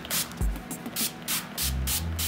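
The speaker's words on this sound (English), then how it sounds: "so I'm gonna just spray it." Makeup setting spray hisses from a pump bottle in several short bursts, close to the microphone, with soft handling thumps between sprays and no talking.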